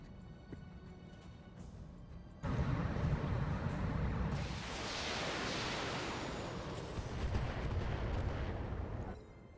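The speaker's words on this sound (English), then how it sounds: "our friendly tanks actually managed to shoot something" Friendly tanks fire their cannons in a war video game, a sudden loud roaring blast that swells into a long rumbling wash of explosive noise before cutting off.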